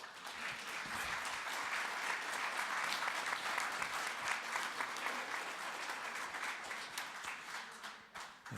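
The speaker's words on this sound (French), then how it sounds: "Madame Fogelman vous a applaudi" Sustained applause from a conference audience at a colloquium on retirees, many hands clapping together in a dense, steady wash that continues for several seconds before thinning slightly at the end.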